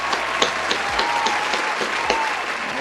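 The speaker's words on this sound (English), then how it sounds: "Round of applause, ladies and gentlemen." An audience applauds a guest arriving on a talk show: a steady, dense wash of clapping with a few louder individual claps standing out near the front.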